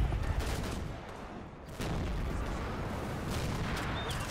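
Gunfire from American troops dug in under trees in the Combat Mission World War II wargame, a dense continuous fusillade of rifle and machine-gun fire with distant booms, steady and moderately loud throughout.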